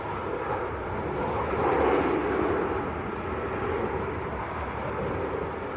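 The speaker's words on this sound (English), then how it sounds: "it's the slowest landing we've seen all day" A jet airliner lands slowly at Manchester Airport, its broad engine roar swelling to a peak partway through, then easing into a steady rush against light wind noise.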